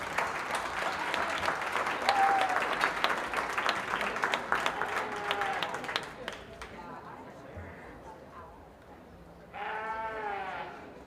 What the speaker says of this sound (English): Let's give him all a really nice round of applause.